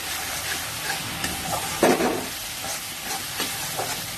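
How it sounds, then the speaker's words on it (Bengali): Pomfret in mustard curry stirred and mixed in a pan with red chilli and turmeric powder: soft scraping strokes over a steady low sizzle, one louder clatter near the middle, close and alone. "ভালো করে নেড়ে মিশিয়ে নিচ্ছি।"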